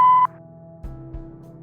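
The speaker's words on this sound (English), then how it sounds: "Please leave a message after the beep" A single short electronic voicemail beep sounds in the Kathy Rain 2 point-and-click game, a clean steady tone followed by faint low thuds.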